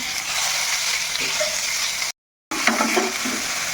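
Small chopped pieces of boneless chicken sizzle and fry in a pan with onions, a steady close hiss with faint stirring scrapes, broken by a brief silent gap.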